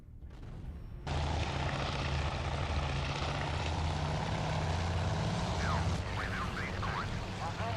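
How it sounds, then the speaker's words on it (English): Enemy fighter aircraft engage in the naval combat game Task Force Admiral: a dense, loud propeller-engine drone starts abruptly and holds steady, with brief chirping sounds layered near the end. "so there are some enemy fighters now. And they're engaging my own fighters."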